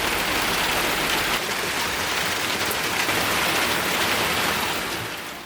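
Steady, heavy rain hisses continuously, a dense wash of drops with no pauses and no voices.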